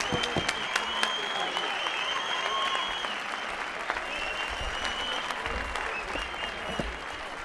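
An audience at a boxing match applauds at the fight's end, a full, continuous roar of clapping with crowd cheers and whistles mixed in throughout.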